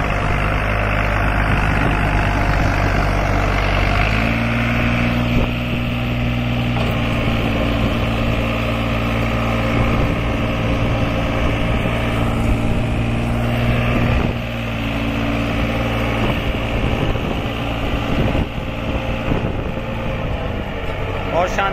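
A New Holland 5510 50 HP tractor engine runs steadily with a deep, loud, continuous drone and a slight shift in pitch partway through, while someone talks over it.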